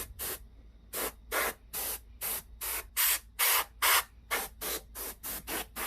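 Short repeated hissing blasts of air clear dust out of a PS4 cooling fan, about a dozen evenly spaced sprays, close and loud against a quiet background.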